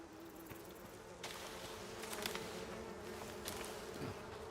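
Steady insect buzzing from a swarm of bees in the survival video game Icarus, a continuous droning hum held at an even level with a few brief brighter swells.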